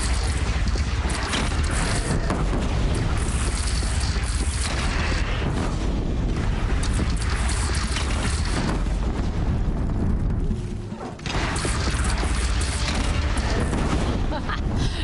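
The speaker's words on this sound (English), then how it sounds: "They only have one cannon!" Heavy booming cannon fire and battle noise in Horizon Zero Dawn, a dense, loud and continuous barrage with a brief dip near the end, voices faintly mixed under the din.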